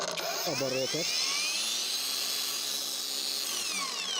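A PATUOPRO PTA001601 angle grinder whines steadily at high speed, around 8400 rpm, high-pitched, loud and continuous, with a short burst of voice near the start.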